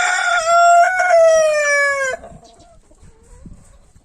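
A young rooster crows loudly and close by in a coop shared with hens and chicks, one long strained cock-a-doodle-doo followed by quieter clucking and shuffling.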